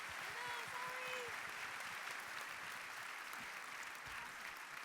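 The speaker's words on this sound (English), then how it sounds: "Let's give a round of applause for our great economists." Steady applause from a dinner audience at a 2016 State of the Economy event, honoring economists; dense, even clapping fills the room throughout, with a few faint voices underneath.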